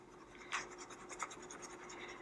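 Crayon or marker strokes scratch across paper while planets are colored in for a solar system hat craft, faint and close, with a couple of sharper scratches standing out from a soft, steady rubbing.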